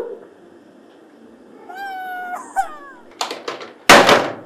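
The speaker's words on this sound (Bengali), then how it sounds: "ওরকম ম্যাও করলে হবে না" A cat meows twice in quick succession, clear and close, followed by a few sharp knocks and a loud thump, in an otherwise quiet indoor room.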